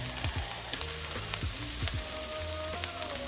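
Ground beef and onions frying in oil in a pan, a steady close sizzle with scattered pops and crackles throughout.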